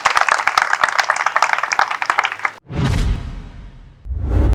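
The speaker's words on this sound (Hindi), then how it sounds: "जोरदार ताली बजा दीजिए प्लीज।" Loud applause from an audience at a civic gathering: dense, rapid clapping with a few sharp claps standing out for about two and a half seconds, then a sudden cut to rumbling, muffled noise.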